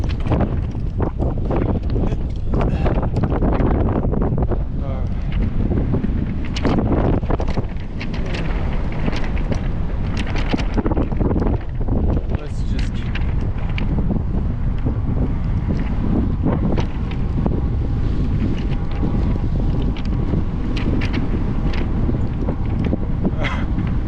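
Wind buffets the microphone while biking, a loud, continuous roaring rumble with gusty fluctuations throughout, and no clear talk over it.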